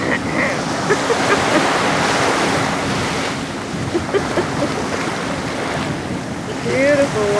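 Waves breaking and washing up a beach with steady wind buffeting the microphone, a continuous loud surf wash with swells rising and falling, heard close.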